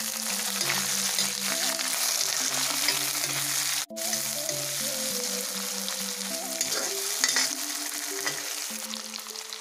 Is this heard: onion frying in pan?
yes